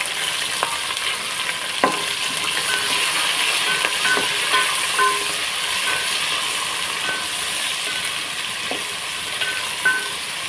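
Onions and green chillies frying in oil for chicken biryani, a steady loud sizzle with occasional stirring clinks and scrapes, no talk.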